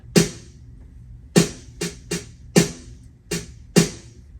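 A layered pair of snare samples with a hip hop feel plays an uneven groove of sharp, crisp hits, some close together, loud and dry with no talking over them.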